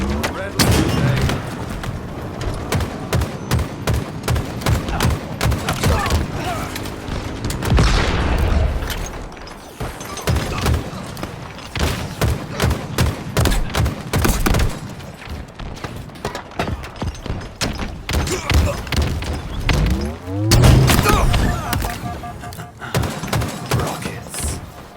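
Rocket launcher blasts and rapid gunfire from a Halo Infinite match, dense repeated booms and shots layered with game announcer voice lines and effects, loud and continuous with brief lulls.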